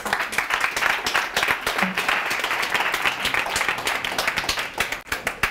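Steady, full audience applause at a conference talk on relational intelligence, many hands clapping continuously and evenly throughout with no pause.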